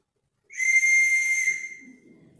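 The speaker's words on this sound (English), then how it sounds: "I have a Pinnacle Park whistle" A souvenir whistle from the Pinnacle stand at Pinnacle Park in Bangor, PA, gets blown once in a steady, loud tone lasting about a second, then fades into faint background noise.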